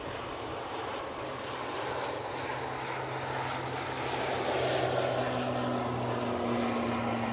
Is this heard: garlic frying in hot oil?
no